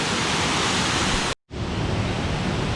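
Kroeng Krawia waterfall, a single long tier, gives a loud, steady broadband rush of falling water, close and unbroken apart from one brief cut.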